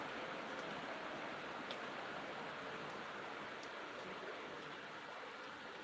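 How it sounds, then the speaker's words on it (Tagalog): Steady, dense broadband hiss of rain pouring down continuously, loud and close, with no voices. "Tamsak, lakasan mo pa ulan."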